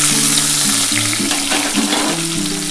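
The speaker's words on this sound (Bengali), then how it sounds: "এই তেলের মধ্যে আমি কিন্তু পেঁয়াজ দিয়ে দিচ্ছি।" Sliced onions frying in oil left over from frying rohu fish for a Bengali kalia, a steady close sizzle with light stirring and no talk.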